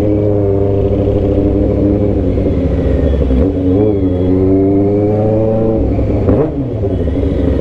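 Loud, steady motorcycle exhaust revving nearby, its deep harmonic rumble rising and falling in pitch, resembling a Kawasaki ZX6R, with no talking over it.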